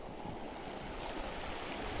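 Spring water in Lanao del Sur flows as a continuous, dense rushing wash, steady and fairly close, with no voices over it.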